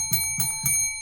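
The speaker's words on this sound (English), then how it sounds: "my famous little bell" A small hand bell rings three times in quick, even strikes, each one ringing out with a clear sustained metallic tone.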